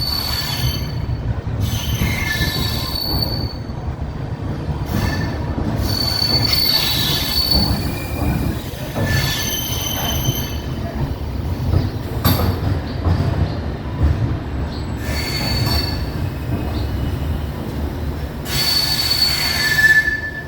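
Wheels of the Mangaluru Rameshwaram Express squeal at Rameshwaram station, with high shrieks rising and fading over a steady rolling rumble and occasional clanks for about twenty seconds, no voices.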